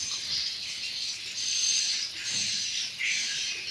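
Dense, continuous chirping and twittering of many swiftlets inside a swiftlet house, a steady high-pitched chatter in waves, fairly close, with no voices.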